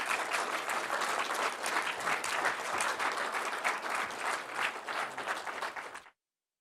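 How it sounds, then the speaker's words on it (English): Audience at a seed growers' business presentation breaks into sustained, even applause of many hands, a dense steady patter that runs for about six seconds before cutting off abruptly. "How about one more round of applause?"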